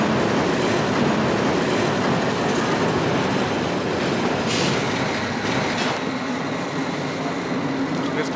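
Train rolling in under a 1970 film scene, a steady loud rumble of wheels and cars with clattering rail noise and a faint squeal toward the end, filling the whole stretch without clear talk.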